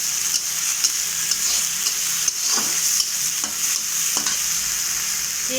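A ground paste of coriander, cumin, fennel and ginger fries in a pan with a constant loud sizzle, punctuated by regular spatula scrapes and taps as it is stirred.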